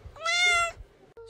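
A cat lets out a single clear, drawn-out meow just before a veterinary visit ahead of a move from Canada to France, heard up close against a quiet indoor background.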